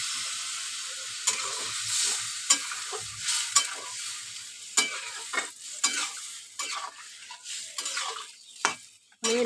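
Soybean curry sizzles loudly in a pan as a little water goes in, with a broad hiss cut by sharp scrapes and clinks from a stirring spoon at an irregular pace.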